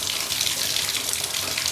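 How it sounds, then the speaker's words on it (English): Water runs steadily from a tap through a trumpet to flush out cleaning soap, a constant close hissing rush with a faint gurgle and no speech. "And now I'm going to start flushing this soap out and wiggling the valves"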